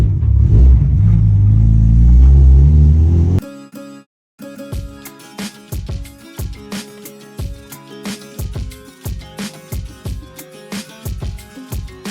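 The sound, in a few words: BMW M3 engine running as it is driven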